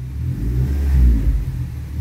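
A Suzuki Swift engine fitted with an iForce throttle module revs briefly up close, a short throaty rise and fall of engine rumble.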